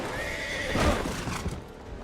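A horse in the video game Assassin's Creed 3 lets out a loud, close neigh with a rising and falling whinny, alongside hoof clatter and game ambience.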